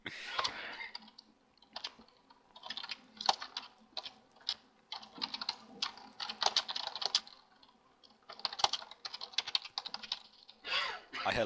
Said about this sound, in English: I hear lots of rigorous typing.